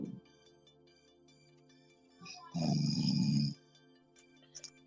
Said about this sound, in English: We should put a beat around his snoring.